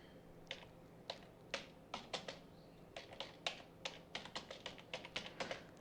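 Quick, irregular clicks of typing on a computer keyboard, light keystrokes coming in short bursts and pauses, close and fairly quiet with no talking.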